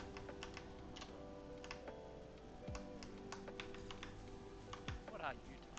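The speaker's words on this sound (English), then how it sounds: "What are you typing?" Quiet, scattered keystrokes come from a computer keyboard in irregular bursts, with people talking faintly in the background.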